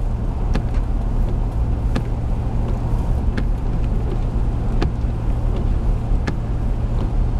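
A car driving on a road toward a one-lane tunnel in the Faroe Islands, a steady loud engine and road rumble with wind noise and occasional faint ticks, no voices.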